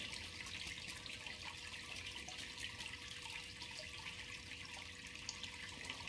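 Water running steadily into a Brewzilla 65L brewing system on brew day, a faint continuous splashing flow with a low hum beneath it, unbroken for the whole stretch.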